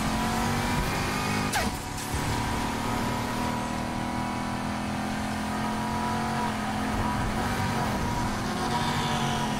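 A Buick drifts through winding serpentine curves in the racing game Need for Speed Heat: continuous loud engine roar with shifting revs and tire squeal, a brief whoosh near two seconds, and no talk.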